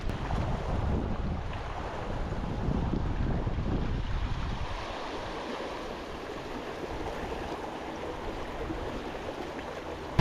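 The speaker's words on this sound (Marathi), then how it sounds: "जसं आधी म्हणाला वारा थोडा जास्ती आहे" Strong wind gusts buffet the microphone at a waterside fishing spot, a steady rushing roar with faint lapping water beneath, loud and continuous throughout with no talking.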